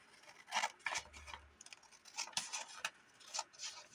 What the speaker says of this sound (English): I'm just going to cut it.